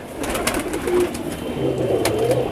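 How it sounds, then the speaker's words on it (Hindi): High flyer pigeons coo softly in a loft, low throaty calls repeating close by over a busy background murmur of wing flutters and movement. "ये सारी उड़ान वाले कबूतर हैं"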